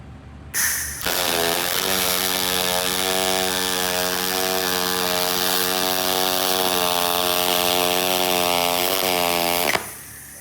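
A spool gun MIG welder runs a bead with 0.080-inch wire at nearly 300 inches per minute, a loud, steady buzzing hiss held unbroken for about nine seconds before cutting off abruptly.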